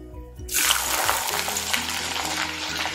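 Finely chopped medium onion hits hot oil already crackling with mustard seeds and cumin, bursting into a loud, steady sizzle and spatter that holds on without pause for a vangi batata bhaji.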